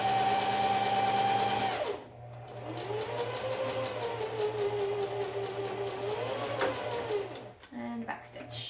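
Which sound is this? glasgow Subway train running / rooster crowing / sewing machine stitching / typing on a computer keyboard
sewing machine stitching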